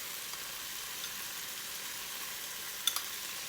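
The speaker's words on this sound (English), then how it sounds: "I'm going to just kind of give them an initial fry here" Shrimp get an initial fry in a pan for Cantonese shrimp with lobster sauce, producing a faint, steady sizzling hiss with a couple of small pops near the end.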